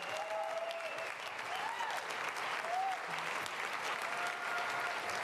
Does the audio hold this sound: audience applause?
yes